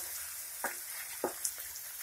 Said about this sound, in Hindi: ये देखिए घिया पकने लगी है